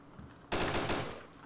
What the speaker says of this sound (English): I just heard a bunch of shots